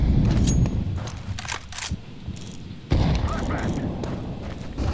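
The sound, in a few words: flashbang grenade thrown in video game Counter-Strike 2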